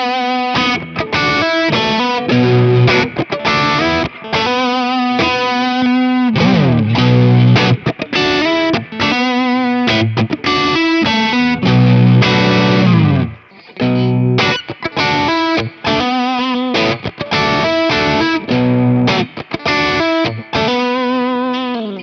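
Rocktile electric guitar played through an amplifier with effects and distortion, a dense run of loud chords and riffs with a brief gap midway, no talking.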